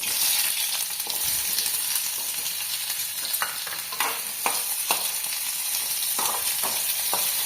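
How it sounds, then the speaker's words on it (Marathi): Onion fries in hot oil in a kadhai, giving off a continuous bright sizzle with scattered scraping and stirring clicks from a utensil. It is close, fairly loud, and has no talk over it. "आता हे तेल गरम करायला ठेवायचं आपण कढईमध्ये आणि कांदा भाजून घ्यायचा याच्यामध्ये"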